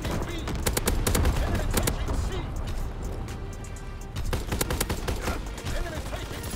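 Rapid automatic fire from a Bren light machine gun in Call of Duty WW2, sustained bursts running nearly throughout with dense overlapping game action and other gunfire, loud and close, with occasional voices mixed in.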